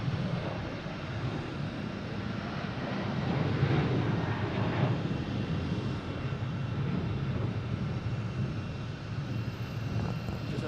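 A Delta Boeing 737-900 jet bound for Fort Myers rumbles at Boston Logan, a steady broadband engine roar that swells slightly midway, heard from a distance over wind noise with no voices.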